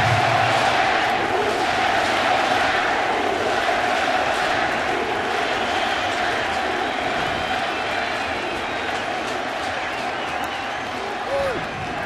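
Crowd at a New York Mets baseball game against Atlanta keeps up a loud, continuous stadium roar, steady and broad with no single burst, over faint background activity.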